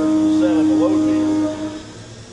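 CNC machine milling aluminum on a finishing pass at 7,500 RPM and 300 inches per minute with a 3-flute, 1/2-inch end mill: a loud, steady tonal whine with layered harmonics and a few sliding pitch sweeps, easing off slightly near the end.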